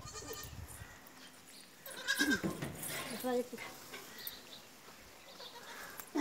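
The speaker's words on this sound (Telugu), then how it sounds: "ఇదిగో బొద్దు మేక పిల్ల, అదిగో అదిగో బొద్దుకొని వాళ్ళ అమ్మ వచ్చిందని అరుస్తారా" Goat kids bleating at a rural home, a few thin cries rising out of a faint outdoor background, with people talking softly nearby.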